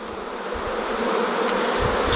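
A dense, steady buzzing of many honey bees in a nucleus box, close and loud, with no voices.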